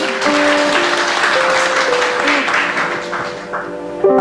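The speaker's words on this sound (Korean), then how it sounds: "박수로 청해 듣겠습니다." Congregation applause at a church festival service, a dense even clapping that fades slightly toward the end, with a sustained musical tone underneath.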